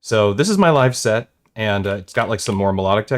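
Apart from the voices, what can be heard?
No distinct noise like a dog, phone or traffic.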